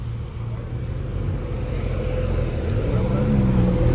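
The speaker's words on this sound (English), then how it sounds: "we got the GT pulling up first" A GT sports car pulling up, a low engine rumble that grows slightly louder as it nears, with talk underneath.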